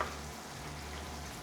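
Chopped onions sauté in a pan over a medium flame for a Tamil-style rava kichadi, making a brief, steady, soft sizzle with no talk.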